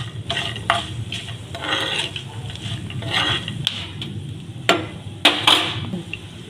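Ingredients splutter while being roasted in a little oil for Majjige sambar, giving a steady close-up sizzle with occasional sharp pops and crackles and a spoon stirring against the pan.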